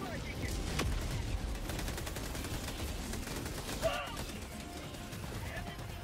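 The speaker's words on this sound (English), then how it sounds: "I just got sniped in the back or something." Sniper and automatic gunfire in the Helldivers II video game rattle in dense bursts amid explosions and battle noise, loud and continuous throughout.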